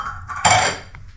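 Metal dishes and pots clank together once while being washed in a household kitchen, a single bright close clatter with a ringing tail.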